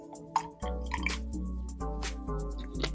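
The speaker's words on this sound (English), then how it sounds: "I might actually put in some more water so we can see the water clearly." Water poured into a density column, a close trickle with soft drips and plops as the liquid fills the container.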